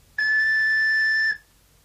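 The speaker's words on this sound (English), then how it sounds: "Paul blew the whistle" A single clear, steady whistle blast lasting about a second, loud and close, with silence around it.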